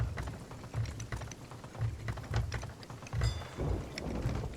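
Steady rain from a video game storm patters with low rumbling bursts like thunder rolling in, textured hiss and occasional clicks throughout, no voices.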